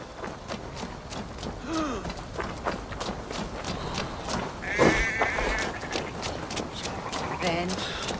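Sheep bleating in a Viking-era action video game set, several short bleats scattered over footsteps and hoof-like clatter, with a voice speaking over the scene.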